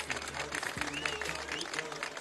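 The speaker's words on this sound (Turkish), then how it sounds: "Alkış rica ediyorum kendilerine." A television studio audience applauds with steady, dense clapping that continues at a moderate level under background tones for the whole short stretch.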